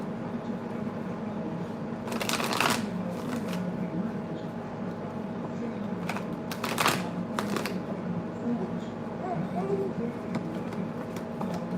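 Tarot cards are shuffled and handled close by in a few quick riffling bursts and soft card clicks over a low steady hum, with some talking in the background.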